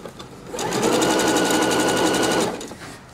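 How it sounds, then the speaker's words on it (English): A sewing machine runs a zigzag stitch along the fraying edge of a nautical fabric cushion. It makes one steady, fast, loud burst of mechanical whirring for about two seconds, with quiet handling before and after. "And now we can sew it on."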